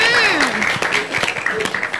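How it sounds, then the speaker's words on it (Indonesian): Short burst of audience applause for a student during a school visit to a TV station, steady clapping heard under a voice speaking over it. "Tepuk tangan untuk Nazib."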